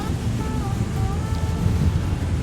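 Strong wind gusts across a beach at Sutton on Sea, a steady roaring rush that buffets the microphone and carries blown sand, loud and unbroken with faint tonal whistles.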